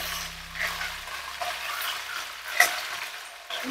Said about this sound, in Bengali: চিকেনগুলো ভাজা হচ্ছে